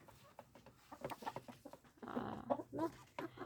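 Hens of the Birkovska variegated breed, a laying bird resembling a commercial cross, cluck in a backyard flock at a dacha, with a louder burst of close calls midway among softer scattered clucks.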